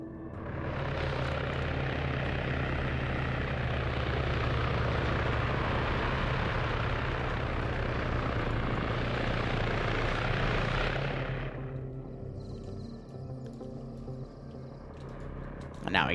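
Military helicopters in a combat game, a steady loud rotor and engine roar for about eleven seconds before it cuts off and leaves quieter game background.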